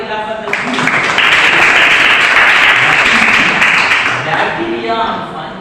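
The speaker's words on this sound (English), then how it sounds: "All right, clap for this." Students in a 6th and 8th standard school classroom clap together, a dense, loud burst of applause rising after half a second and holding steady for several seconds before tapering, with a few voices mixed in at the edges.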